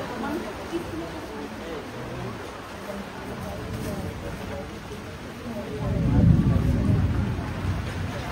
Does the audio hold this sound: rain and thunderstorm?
yes